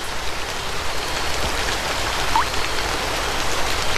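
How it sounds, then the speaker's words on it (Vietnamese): Steady rain shower falls in a steep mountain forest, a dense, even hiss of drops on leaves and ground, loud and close, with no voices. "May mà mưa rào cũng ngắn thôi."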